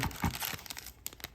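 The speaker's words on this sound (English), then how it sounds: "Styrofoam down below." Styrofoam packing is pulled out of a gun safe's cardboard box, producing quick close squeaks, crinkles and scraping rustles in a short burst that tapers off.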